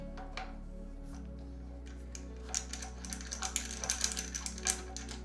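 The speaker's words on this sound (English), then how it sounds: "I'm going to go ahead and just simply screw it onto the gimbal's accessory mount" A ball head screwed by hand onto a gimbal's accessory mount gives a run of small, close, irregular clicks and ratcheting ticks, sparse at first and then denser, over a low steady hum.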